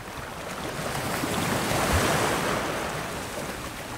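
Sea surf washes over a beach of rounded, polished pebbles on La Gomera, a steady broadband roar swelling toward the middle and easing off, with wind noise on the microphone.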